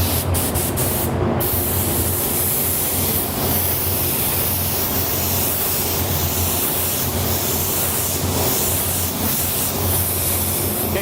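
A spray gun lays a first coat of Createx Candy 2.0 Tealicious paint as a steady, loud, continuous hiss of atomized spray. It holds evenly throughout with no speech.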